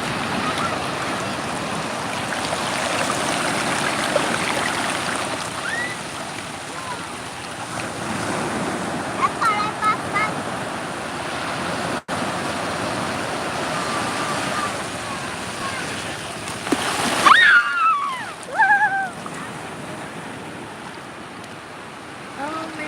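Waves wash continuously onto the shore at Anyer Beach, a broad steady surf rush with wind noise, breaking louder near the end, while people talk faintly at times.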